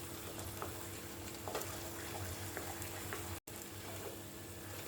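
Grated potato halwa sautéing in ghee in a pan, a faint, steady low sizzle and crackle with a few soft stirring ticks, continuous throughout apart from one brief dropout near the end.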